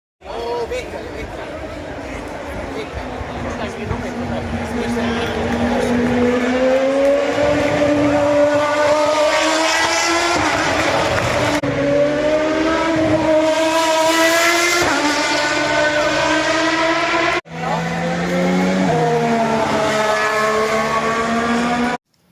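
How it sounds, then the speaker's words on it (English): High-pitched Formula 1 engines whine continuously at the Imola Grand Prix, pitches rising and falling as cars rev and pass, with a crowd murmuring faintly underneath. "Then the F1 cars came onto the grid"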